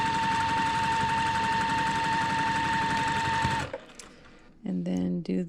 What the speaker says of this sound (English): And sew that.